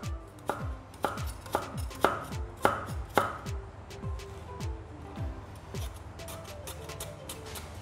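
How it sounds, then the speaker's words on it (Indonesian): A knife chops dried shrimp into small pieces on a board, with about a dozen sharp thuds, evenly spaced and close, at first firm and then lighter. No one talks. "Ini aunty pakai potong kecil-kecil ya."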